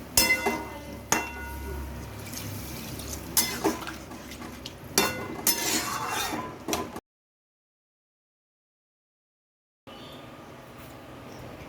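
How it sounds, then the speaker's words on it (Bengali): Ground spice paste frying in a pan for Bengali dudh shukto, heard as clinks of utensils, stirring scrapes and a light sizzle over about seven seconds, then silence before faint kitchen background returns. "এবার ওর মধ্যে আমি যে মশলাটা বেটে রেখেছি সেটা দিয়ে দেবো এবং সেটা ভালো করে আমি ভাজা ভাজা করতে থাকবো"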